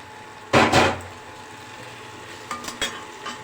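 Boiled cauliflower and potato pieces drop into a pan of frying spice paste for doi phulkopi, giving two close bursts of loud sizzling and stirring, then quieter scraping clatter a couple of seconds later.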